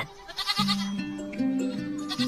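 A lamb bleats in a children's story about a lost sheep: a run of wavering, nasal bleats, fairly close and moderately loud, each one sliding in pitch, with no talking over them.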